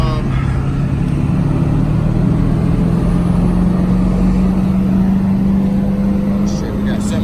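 A Ford 7.3 diesel truck with an aftermarket turbo drones steadily at freeway speed, a constant low engine hum with the pitch slowly rising, and road noise throughout.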